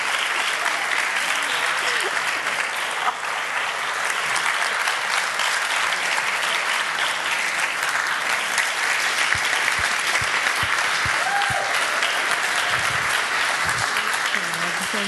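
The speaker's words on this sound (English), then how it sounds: "Let's give her another round of applause." Sustained, loud applause from an audience at a youth mental health talk, steady and full-bodied throughout, with scattered individual claps and faint voices mixed into the crowd.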